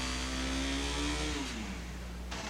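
A motorcycle engine with a CDI ignition system idles and revs in a steady drone whose pitch rises and then slides down, faint and heard alone.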